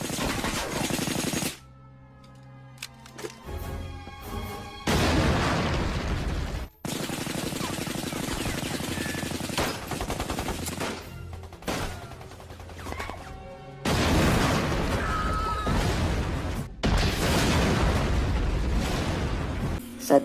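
Scene from the Indonesian independence war film Darah Garuda: loud bursts of explosions and gunfire come in heavy sustained stretches broken by sudden cuts and quieter moments of dramatic sound.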